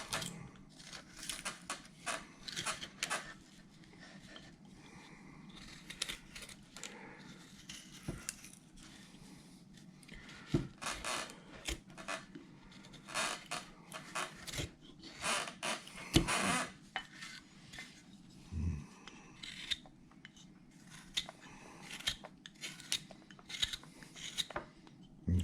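A knife carving a wooden Santa figure from a bandsaw blank: faint, quiet scraping and shaving strokes, with small irregular clicks and rasps coming close together over a soft background.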